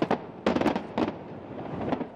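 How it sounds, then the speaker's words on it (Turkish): Fireworks at the opening ceremony of the 250-metre Ain Dubai ferris wheel, with a series of booming bursts and crackling explosions overlapping at a moderate distance and a continuous rumbling wash between the blasts. "Havai fişek ve ışık gösterisi geceyi aydınlattı."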